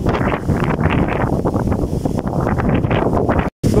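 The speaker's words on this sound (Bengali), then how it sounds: "প্রচুর বাতাস বইছে।" Strong wind blowing across open maize fields under storm clouds, a loud continuous rushing roar buffeting the microphone, with a brief dropout near the end.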